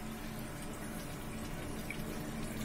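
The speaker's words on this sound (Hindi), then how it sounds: "आप देख सकते हो ये फ्लश होगा।" Water rushes steadily from a Japanese toilet as it flushes, a close, even, moderately quiet gush with no voices over it.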